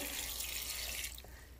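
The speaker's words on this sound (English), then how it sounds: "We're going to add some water in there" Water runs steadily into a pot of cut pork pieces for braising in a kitchen, a close, hissing pour that fades slightly near the end, with no talk.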